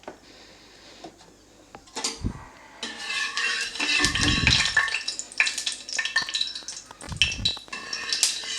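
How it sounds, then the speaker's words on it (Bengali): Mustard oil poured into a hot wok on the stove while frying fish for Bengali aar fish kalia, metallic clinks and scrapes followed by bursts of sizzling and rustling close by, with no speech. "কড়াই গরম হয়ে গেছে, এবার তার মধ্যে আমি দিয়ে দিচ্ছি সর্ষের তেল।"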